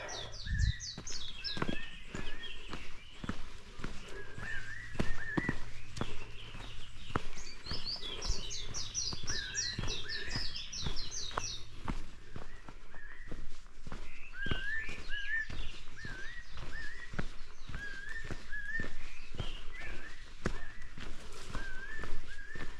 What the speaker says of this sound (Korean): 새소리가 오케스트라 연주를 하는 것 같습니다.